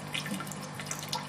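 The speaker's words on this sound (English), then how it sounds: "And it floats, you just pour it off." Water poured off tomato seeds, saving seeds from ox heart and Black Russian tomatoes, a soft steady trickle and splash of liquid at close range, faint and continuous with small drips, no talking.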